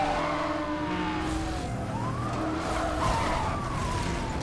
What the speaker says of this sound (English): I can hear the RX-8 behind me